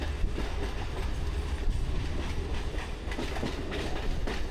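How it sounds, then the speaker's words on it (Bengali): A metro train on the Dum Dum to Dakshineswar line crosses an overhead bridge beside a railway line, giving a steady close rumble with rhythmic clickety-clack of wheels over rail joints. "এই ব্রিজের উপর দিয়ে মেট্রো যায়"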